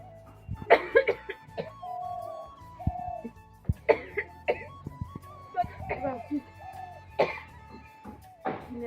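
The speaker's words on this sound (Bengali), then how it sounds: "কাশি" A person coughs several times in short bursts, close and fairly loud, with some talking and throat clearing mixed in around the coughs.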